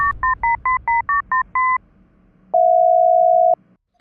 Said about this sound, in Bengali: পাঠান ওসি হিটলারের ফোন লাগা